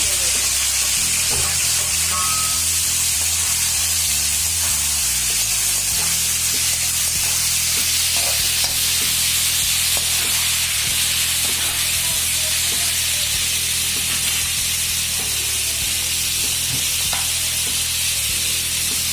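Onion, tomato and chili frying in a pan for idli sambar, giving a loud, steady sizzle and hiss throughout with occasional scraping stirs and a low background hum; no one talks.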